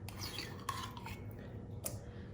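Very thick yogurt being scraped and spread with a metal butter spreader in a bowl, with a few faint, brief scrapes and light clinks against a quiet background.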